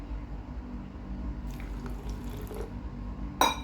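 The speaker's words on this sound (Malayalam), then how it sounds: "ഈ കുപ്പിയിലോട്ട് ഞാൻ കുറച്ച് വെള്ളം ഒഴിച്ചു കൊടുക്കാൻ" Water is poured into a plastic bottle holding coffee powder and sugar, a soft brief trickle and gurgle over quiet room noise, ending in a short sharp splash or knock.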